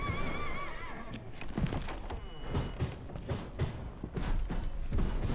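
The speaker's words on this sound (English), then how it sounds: "Caballo." A horse neighs and whinnies in the Western video game Call of Juarez, with creaking and clip-clopping hooves mixed into a short, busy stretch.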